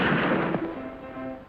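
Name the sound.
gunshot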